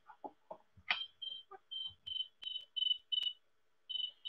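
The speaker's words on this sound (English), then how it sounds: "Do you hear it? That's the cricket." A cricket chirps alone in a quiet space, a series of short, high, clear trills repeated in an uneven rhythm, fairly faint and close, preceded by a few soft rustles and taps.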